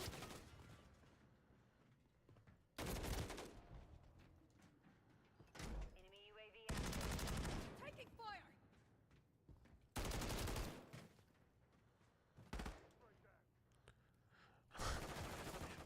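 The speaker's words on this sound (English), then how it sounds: "Disney's doing a whole bunch of fireworks right now." Distant Disney fireworks burst in loud broadband booms, several well-spaced explosions scattered across the stretch, with quieter crackle and a little background noise between them.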